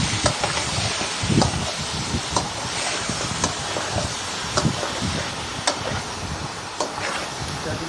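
Beef fries in ghee for a Peshawari-style dish, giving a steady loud sizzle with scattered crackles and pops throughout.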